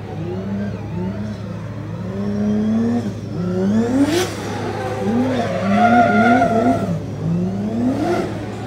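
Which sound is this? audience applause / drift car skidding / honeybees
drift car skidding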